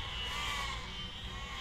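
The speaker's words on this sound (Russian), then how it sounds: "Этот вой овец." Sheep bleating in the physics game Besiege, a faint, continuous wavering bleat heard alone at low level.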